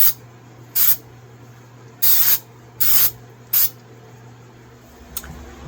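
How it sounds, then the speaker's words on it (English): Short aerosol bursts of finish sprayed onto a restored old knife: five sharp hissing blasts in an irregular rhythm, close and fairly loud, over a steady low hum, with a faint tap near the end. "then we're going to give it another spray and let it sit again"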